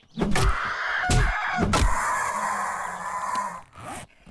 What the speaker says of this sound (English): Oh, there's a bird there.